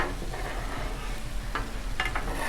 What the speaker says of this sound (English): I love cooking eggs on this thing